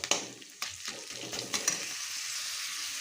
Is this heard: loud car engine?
no